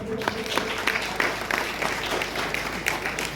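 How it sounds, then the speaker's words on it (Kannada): An audience at a temple felicitation ceremony claps together in a steady, dense patter that runs throughout. "ಎಲ್ಲರೂ ಚಪ್ಪಾಳೆಯೊಂದಿಗೆ"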